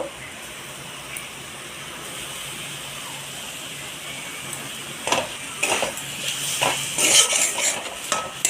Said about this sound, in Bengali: এখানে যে মশলাটা কষিয়ে রেখেছি তো এর মধ্যে মাছগুলো দিয়ে দেব